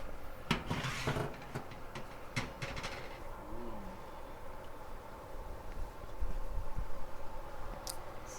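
A baking dish of cornbread stuffing clinks and clatters as it comes out of the oven, a few close metallic knocks early on, then quieter kitchen shuffling with a bird cooing faintly in the background.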